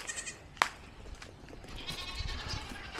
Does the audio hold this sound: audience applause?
no